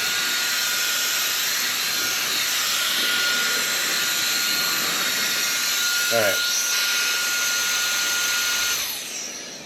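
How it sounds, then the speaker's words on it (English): A small electric air pump used as a fan or vacuum runs with a steady high whine and hiss, close and constant, while a voice speaks briefly before it cuts off at the end. "I think the coolest part of this is that you can use it as a little vacuum"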